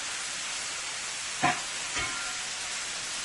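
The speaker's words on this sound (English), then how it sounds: "we are going to add the Bora first to the pan here" Bora beans dropped into a hot pan for a Chinese-style beef and cabbage stir fry, a soft continuous sizzle with two brief clatters of ingredients hitting the pan, no talking.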